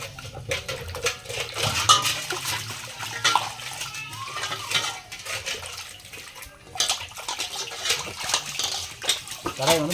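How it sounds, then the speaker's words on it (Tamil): A metal kadai (wok) being scrubbed clean with water: irregular scraping, clinking and sloshing strokes, close and moderately loud, in uneven bursts. "இப்போ கடாயை சுத்தமாக நம்ம தேய்ச்சி போகிறோம்."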